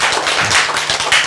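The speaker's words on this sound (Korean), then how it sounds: "박수!" A church congregation applauds during a sermon: a loud, dense, continuous burst of many hands clapping at once, with no voices over it.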